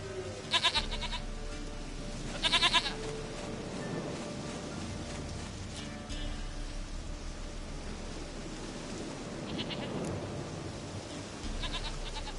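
Repeated short goat bleats in Witcher 3 rise out of a soft hissing background, spaced irregularly, including a couple of quick stuttering calls.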